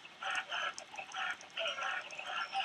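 Chickens clucking in Minecraft, a string of short repeated clucks in bursts at close range, steady and fairly loud with no talk over them.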